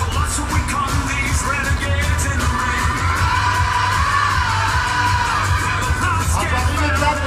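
Crowd at a company awards ceremony cheering and applauding qualifiers, steady clapping mixed with whoops and shouts, loud and continuous.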